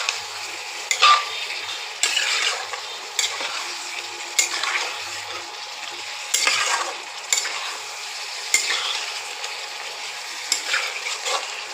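Capsicum chicken masala being stir-fried in a pan: a spatula scrapes and stirs in repeated strokes over a soft sizzle, close and fairly loud.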